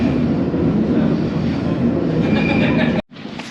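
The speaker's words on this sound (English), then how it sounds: "my train for King's Cross St Pancras is approaching now" A London Underground train rumbles steadily into a station platform, a broad loud roar with rising screeches, then cuts off abruptly near the end.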